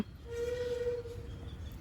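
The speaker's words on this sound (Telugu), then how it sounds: "డౌన్ లైన్లో ఏదో ట్రైన్ వస్తుంది అనుకుంటున్నాను" A train's horn sounds briefly as it approaches on the down line at Kesavaram, a steady tone over low rumbling rail noise, fairly distant and faint.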